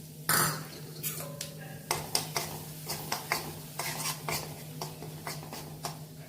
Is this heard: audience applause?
no